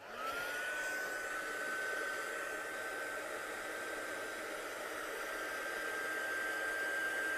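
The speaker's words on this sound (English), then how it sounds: "Let's give that quick blast with a heat gun." Heat gun blowing steadily onto a handmade die-cut Christmas card, a continuous close airy roar with a faint steady whine running alone throughout.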